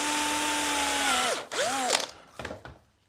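Power drill driving screws into a split chestnut gate latch, a whirring motor tone that bogs and sweeps in pitch as the screw seats, then stops and restarts briefly, close and loud with no talk.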